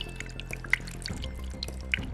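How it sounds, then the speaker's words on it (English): A thin stream of water runs out of a cup during a home static electricity experiment. It makes a faint, close trickle with small drips and splashes scattered through it. "the cup with water so that constant stream flows out like this"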